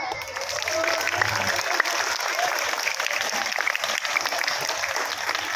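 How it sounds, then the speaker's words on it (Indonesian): Schoolchildren at an elementary school anti-drug outreach event clapping together, a dense, continuous patter of many small hands, loud and close throughout. "Nah, tepuk tangan."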